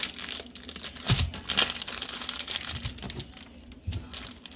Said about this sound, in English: I have my turkey sausage, and I'm going to cut it into little pieces.